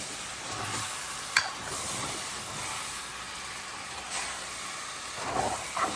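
Liberian potatoes frying in a covered pan, giving a steady broadband sizzle with faint stirring scrapes and a few soft clinks near the start and end, with nobody talking.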